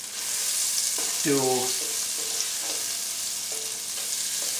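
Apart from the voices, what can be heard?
shrimp sautéing in olive oil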